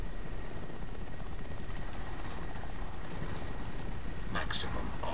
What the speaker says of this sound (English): Oh, there's a helicopter though coming in.